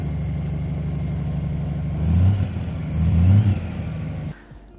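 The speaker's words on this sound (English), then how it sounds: "Can I get a little rev, just a little bit?" A Honda Goldwing touring motorcycle engine idles with a steady low rumble, then revs up twice in two short swells of throttle before dropping back and cutting off near the end.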